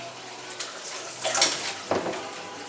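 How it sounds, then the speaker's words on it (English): Cold water pours steadily into a pot of white chilli, a broad rushing flow with a couple of louder splashing surges, close and alone without talk. "again with the cold water, plenty of it"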